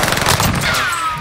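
Rapid automatic gunfire from an online multiplayer military shooter game rattles in loud, close, continuous bursts throughout, with no talk over it.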